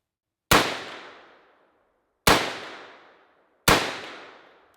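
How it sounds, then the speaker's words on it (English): Three loud, close gunshots from a gun fitted with a CTS Engineering AKTIVE recoil buffer, each a sharp crack with a decaying tail, spaced about two seconds apart with silence between. "It feels like the gun is just recoiling a lot smoother than previously."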